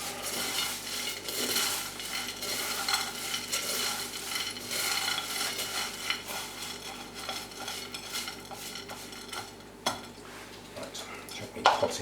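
Clattering and scraping of pots and kitchen items being moved and set down as a plant pot is placed for potting, with rustling throughout and a sharper knock near the end.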